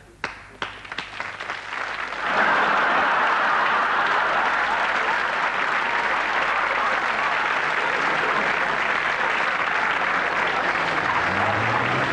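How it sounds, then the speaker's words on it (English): A few scattered claps quickly swell into loud, sustained applause from a large television studio audience that continues steadily to the end. "And a big round of applause for Hank Shepherd and Trigger."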